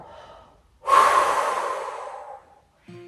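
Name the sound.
deep breathing during pilates exercise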